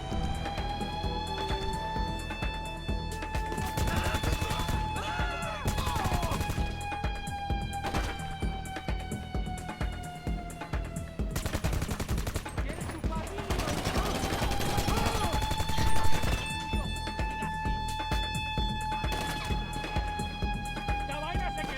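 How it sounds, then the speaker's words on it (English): Sustained gunfire during a solo aggressive Cayo Perico heist at the main entrance in GTA Online, minigun bursts and return fire from guards rattling continuously and loud for over twenty seconds over a steady droning game score and tonal sweeps, with talk at times. "Again, getting shot up though."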